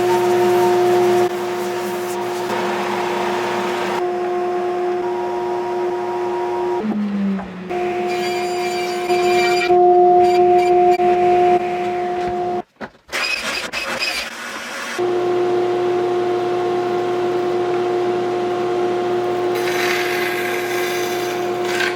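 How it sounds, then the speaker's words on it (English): Oscillating sander smoothing the edges of wood pieces for base cabinet organizers in a workshop, a steady loud motor hum running throughout with brief dips and pauses as the work shifts. "And then refined at the oscillating sander."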